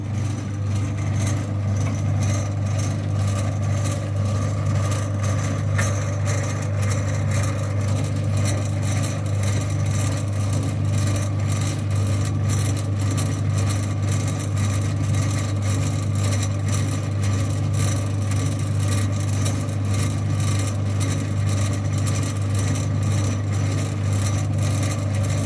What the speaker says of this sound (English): I'm going to stop talking because you won't hear me over the lathe anyway.